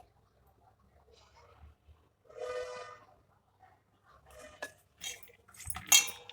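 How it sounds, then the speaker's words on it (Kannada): A spoon stirs papaya pachadi in a metal pot, giving scattered scraping clinks and taps at close range, growing busier toward the end, with quiet gaps between strokes. "ಚೆನ್ನಾಗಿ ಮಿಕ್ಸ್ ಮಾಡ್ಕೊತಿದ್ದೀನಿ ರೀ ಇದನ್ನ."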